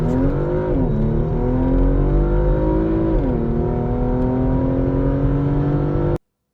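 A 2022 Porsche Macan engine accelerates in manual mode with paddle shifters, a loud steady drone rising in pitch, dipping briefly at each gear change, then cutting off abruptly.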